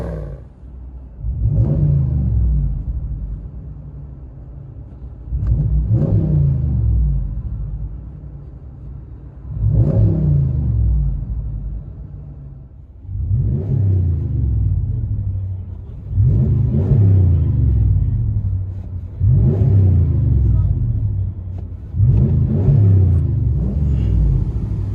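A 2020 RAM 1500 with the 5.7L HEMI V8 and aftermarket exhaust, B2 Fabrications, Flowmaster Super 44 or muffler delete, revving repeatedly, about seven loud deep throttle blips each settling back to a rumbling idle, close up.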